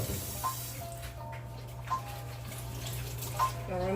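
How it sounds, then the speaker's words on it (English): Gloved hands washed under a running kitchen tap while cooking Philly cheesesteak: a steady, even rush of water with faint splashy flickers, moderately close and unbroken throughout. "I do wash my hand, these gloves on my hand while I'm cooking"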